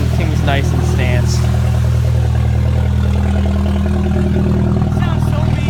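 A lowered car on aftermarket rims runs with a deep, steady engine rumble close by, while people talk loudly over it throughout.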